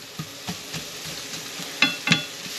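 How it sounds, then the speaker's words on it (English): Onions sautéing in a pan on a home stove, a faint sizzle broken by a few sharp taps and scrapes of a stirring utensil, close and sparse, with no voices. "let's saute these up"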